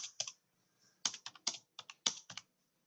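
Fingers tap out keystrokes on a computer keyboard during typing practice, with crisp, close clicks arriving in irregular quick clusters separated by short gaps, quiet and alone.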